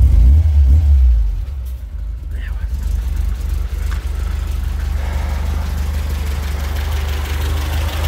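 A 1978 MGB GT rubber-bumper model's engine idles with a steady low rumble close by, a few clunks and a voice briefly heard early on.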